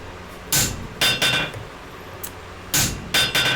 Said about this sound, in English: I'm using the hammer billet itself to shear off the material